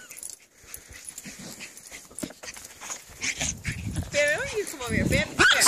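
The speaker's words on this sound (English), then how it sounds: "Hey, what are you barking about over there?" Puppies barking, yipping and whimpering amid playful household chaos, the barks growing louder and more frequent toward the end, with a person talking over them.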